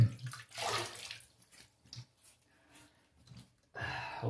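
Running water from a tap splashes as a face is wetted before a shave, with two bursts of close splashing and quieter trickles and drips between them, with no talking.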